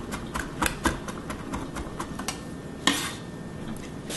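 A knife mincing ginger on a cutting board, a run of quick, uneven chops with short pauses and one sharper knock near the end, close and moderately quiet with no talking.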